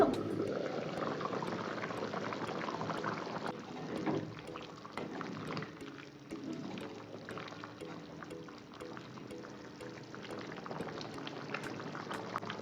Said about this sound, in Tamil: தண்ணி ஊற்றுனதுக்கப்புறம் நல்லா கொதிக்குது